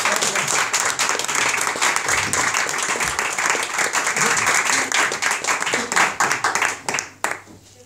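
An audience applauds to welcome a musician at a small live performance in Santa Pola, dense steady clapping close by that fades out at the end.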